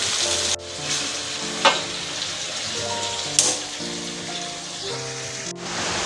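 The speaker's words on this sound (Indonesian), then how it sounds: "ini sudah kita tumis semua bahannya" Sambal terasi ingredients sauté in a pan with a steady, close crackling sizzle, broken by a couple of sharp clinks as they are stirred.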